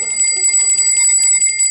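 A bell rings loudly and steadily, its bright metallic tone sustained by rapid repeated strikes that shimmer without pause, heard alone and close.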